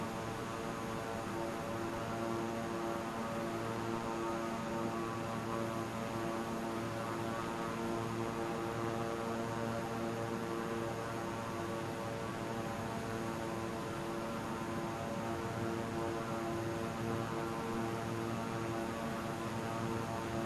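Steady propeller aircraft drone in Microsoft Flight Simulator on approach to land, a constant tonal engine hum with layered harmonics, loud and unbroken from start to finish.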